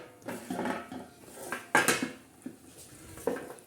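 A metal spoon scrapes and clinks against a pot of simmering moong dal and drumstick curry, several uneven knocks and stirring scrapes close by, with one sharper clang midway and no talking.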